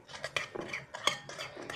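Slime is mixed in a bowl with a utensil, giving a run of close, wet clicks and light scraping taps at an irregular, fairly quick rhythm, with no talk.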